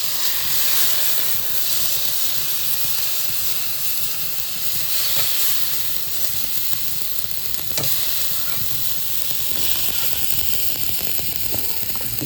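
Tomato, garlic and onion sizzling in a pan, a steady bright frying hiss with occasional stirring scrapes, close and continuous without speech.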